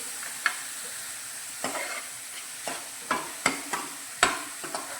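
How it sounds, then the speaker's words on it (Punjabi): Onion frying in a pan on a home stove, with a steady soft sizzle broken by irregular scraping stirs of a utensil against the pan. No one speaks. "ਇਹਨੂੰ ਹੁਣ ਪਿਆਜ਼ ਨੂੰ ਆਪਾਂ ਭੁੰਨ ਲਾਂਗੇ"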